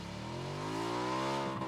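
A moped engine revving in the video game PUBG, a steady buzzing motor whose pitch rises smoothly as it accelerates, close and continuous for under two seconds.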